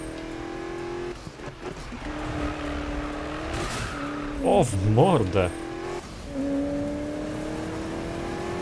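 A racing car engine in the video game Need for Speed (2015) revs and whines through gear changes, with a brief squealing burst in the middle; someone speaks briefly over it.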